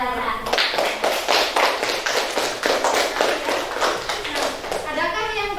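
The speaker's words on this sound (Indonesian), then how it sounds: "tepuk tangan buat kelompok darah" Schoolchildren in an Indonesian elementary classroom clap together for a group, a dense run of rapid hand claps lasting several seconds, loud and close, ending as a voice speaks.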